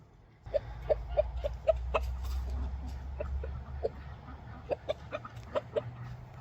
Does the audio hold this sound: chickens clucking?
yes